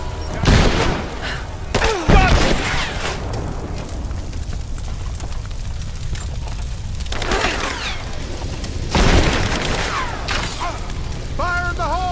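Gunfire and explosions in the Rise of the Tomb Raider video game: loud bursts of shots and booms separated by stretches of rumbling noise, with shouted combat voices mixed in.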